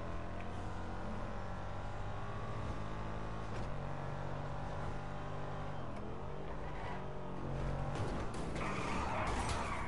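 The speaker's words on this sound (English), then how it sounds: "The sound of this car is cool." Car engine roaring with tires skidding in GTA 5, a steady loud drone with shifting pitch and a rising squeal near the end, no talking.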